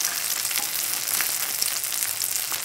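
Seafood green onion pancake frying in a pan, a continuous close sizzle with crackling pops as the bottom crisps, no talking.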